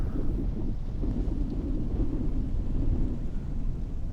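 Steady rushing wind gusting through tree foliage on Charleston Peak, Nevada, with heavy rumbling buffeting on the microphone, no voices.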